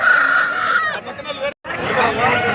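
A rooster crows loudly and close at a busy weekly hen market, the call breaking off and then followed by clucking and mixed fowl noise.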